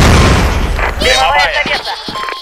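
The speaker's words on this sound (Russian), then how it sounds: "Осколочная! Дымовая завеса! Осколочная! Граната пошла!" In the online shooter CrossFire, a grenade goes off with a heavy booming blast at the start, its rumble decaying as a radio-style voice calls out over the fading echo.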